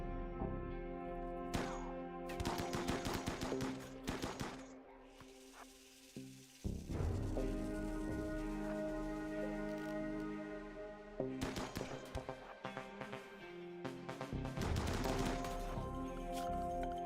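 Colonists in RimWorld shooting guns at shamblers, scattered bursts of small gunshots among a steady hissing game backdrop, with short loud clusters of fire separated by calmer stretches.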